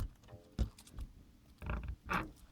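Soft creaks and light scraping bumps as a homemade insulation frame is slid snugly into an RV window opening, several short quiet sounds spread across a couple of seconds.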